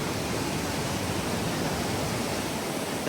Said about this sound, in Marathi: ह्यो धबधबो मोठो हा